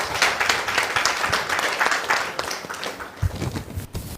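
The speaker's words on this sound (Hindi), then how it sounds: "तालियां बजा के प्रभु को धन्यवाद।" A church congregation claps together in a loud, dense burst of applause with crowd noise mixed in, and a heavier thump near the end as it begins to fade.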